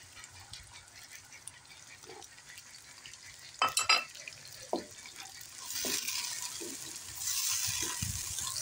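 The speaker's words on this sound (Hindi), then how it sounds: "अब हम प्याज ब्राउन कर लेंगे। प्याज के साथ ही हम अपना चिकन भून लेंगे।" Onions and chicken frying in hot oil, a steady low sizzle broken by a few sharp stirring scrapes near the middle, with the hiss swelling louder toward the end.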